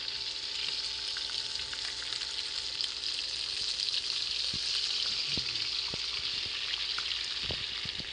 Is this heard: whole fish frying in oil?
yes